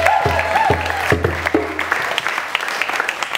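Audience at a book release breaks into applause, a dense burst of many hands clapping that gradually thins out, with a voice speaking near the start.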